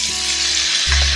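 Hot mustard seed, cumin, asafoetida and curry leaf tempering hits a pot of boiling Telugu dosakaya pulusu, bursting into a loud, steady sizzle that swells sharply near the end.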